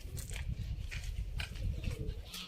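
Pigeons coo softly at a farm, with low murmuring calls and faint rustling close by and no speech over them.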